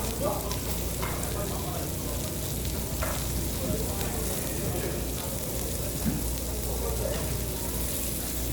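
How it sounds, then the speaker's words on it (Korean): Meat sizzling steadily on a hot grill at a Korean all-you-can-eat meat buffet, a dense continuous crackle close by, with faint voices murmuring in the background. "지글지글지글지글."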